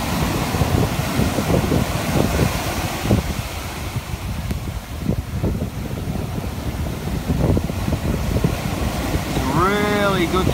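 Ocean waves wash onto a beach at high tide, a continuous broad surf rush with gusty wind buffeting the microphone and a faint burst of other sound near the end.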